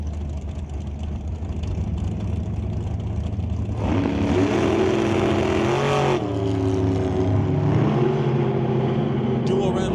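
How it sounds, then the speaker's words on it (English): Drag race at a strip between a dragster and a 1992 Firebird: a steady engine drone swells into a loud, rising roar of hard acceleration with shifting pitch, under continuous crowd and announcer-style background noise. "bit of an undercover dragster here going up against the 92 Firebird on the far side"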